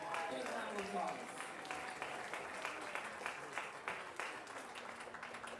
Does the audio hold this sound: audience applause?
yes